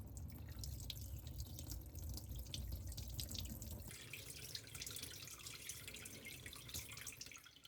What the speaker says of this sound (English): Wash the blood with the water quickly.